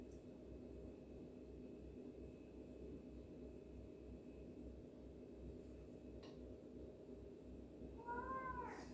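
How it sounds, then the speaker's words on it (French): A single drawn-out cat meow rises near the end, fairly faint, over a long stretch of steady low background hum. "Alors désolée si vous entendez mon chat miauler, il est en train de râler parce qu'il veut sortir."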